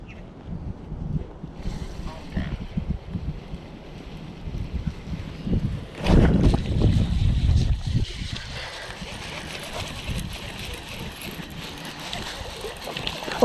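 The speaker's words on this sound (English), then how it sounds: "It's quite windy." Gusty wind buffeting the microphone beside an urban pond in Austin, Texas, with a low rumble that surges strongly midway before easing into a steadier whoosh.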